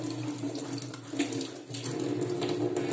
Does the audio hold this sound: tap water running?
yes